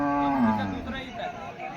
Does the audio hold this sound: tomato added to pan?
no